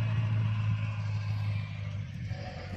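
A running MG car engine at the MG Days centenary meet, a steady low rumbling idle that holds close and even for a few seconds with no talk.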